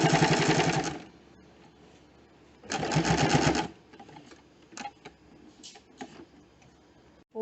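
A sewing machine stitches a kurta placket in two fast, close bursts of rapid whirring about a second each, separated by quieter pauses with faint ticks and handling clicks.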